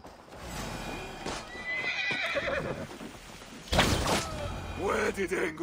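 A horse in Assassin's Creed Valhalla whinnies loudly over hoofbeats and battle ambience during the Siege of Paris, with voices talking alongside and a second sharp neigh partway through.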